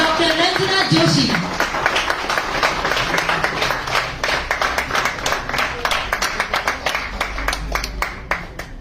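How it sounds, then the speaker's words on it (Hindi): An audience at an award ceremony in Udaipur claps for Dr. Ranjana Joshi, a dense, even round of applause that swells and carries on steadily after a brief spoken introduction at the start. "please give a big round of applause for doctor Ranjana Joshi"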